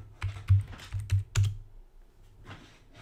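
Keystrokes on a computer keyboard as a terminal command is entered, a quick cluster of clacks followed by a faint pause and a softer final tap, close and clear with no voices.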